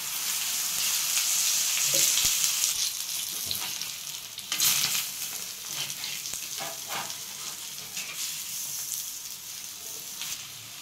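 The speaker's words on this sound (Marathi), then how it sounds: "मस्त असं कढईने तेल सोडून घ्यायचं." Taro leaf rolls (alu vadi) fry in oil in a kadhai, giving a steady, close sizzle and hiss with a few scattered crackles and light clatters throughout.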